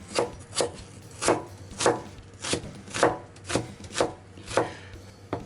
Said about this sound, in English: Then chop onion.